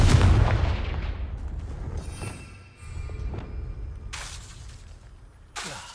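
Spell-blast explosion in Hogwarts Legacy, a loud booming burst at the start that rumbles and decays, followed by crackling debris and sharp bright magical zaps later, with a shouted incantation.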